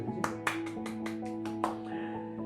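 A group of children clap loudly together to congratulate Nadeem in a classroom, a brisk burst of uneven claps over a steady hum.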